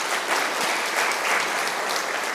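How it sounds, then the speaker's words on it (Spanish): A church congregation applauding together, a dense, steady burst of clapping filling the room for a few seconds without pause. "A ver, todos los árboles del campo den un aplauso."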